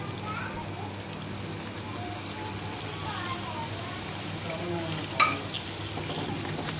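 Chopped onions go into a karahi of frying chicken and are stirred, giving a steady close-up sizzle and crackle with scraping stir sounds throughout and a voice faintly underneath.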